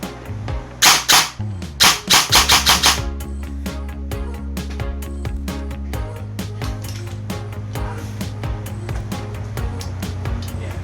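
Airsoft gun fitted with an upgraded MOSFET firing a quick series of sharp cracking shots in short bursts, followed by a steady mechanical whirring hum, close and loud with no talking.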